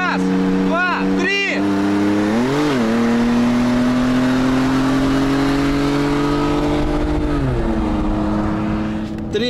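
A car launched hard at a drag race start, its engine revving up through sharp gear shifts then holding a loud, sustained high whine, with voices briefly heard over it.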